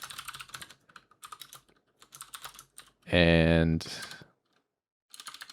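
Someone types C++ code on a computer keyboard in short bursts of close key clicks, broken by a brief loud tonal blare in the middle, with a single spoken word near the end.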